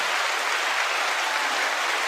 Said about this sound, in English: 9-second applause to FD Signifier.